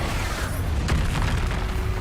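Expulso spell explosion in Hogwarts Legacy, a dense, rumbling boom that fills the whole two seconds at steady loudness.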